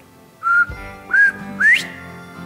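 A person whistles three short rising notes in imitation of a bobwhite quail call, clear and close in a quiet room.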